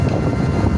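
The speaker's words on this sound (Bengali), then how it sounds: "খুব বাতাস লাগে।" Strong wind rushes steadily past the microphone on an open road near a bridge, a continuous low buffeting roar with no pauses across the short stretch.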